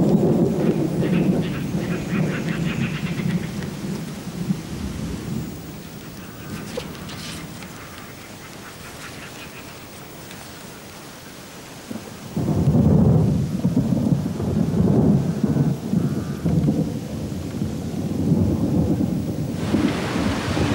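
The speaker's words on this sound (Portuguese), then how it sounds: "Após muitos dias de intensas chuvas" Heavy rain pours over a tropical forest during a thunderstorm, with long rolling rumbles of thunder that fade and then swell again, loud and continuous.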